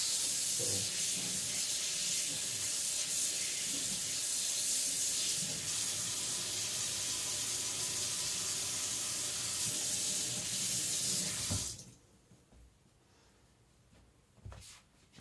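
Tap water running steadily as soap is rinsed off an IKEA Chinese cleaver at a sink, a loud continuous hissing spray for about twelve seconds before it shuts off, followed by faint clinks.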